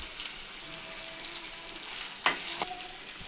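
Onion, garlic, cumin and chili fry in a hot pan with a steady, hissing sizzle. A utensil stirs and scrapes them, and a sharper clatter comes near the end.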